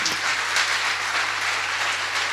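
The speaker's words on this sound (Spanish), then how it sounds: "Denle un fuerte aplauso al Señor Jesucristo." A church congregation gives steady, full applause, a dense and even wash of clapping from many hands that fills the room without pause, with a low hum beneath it.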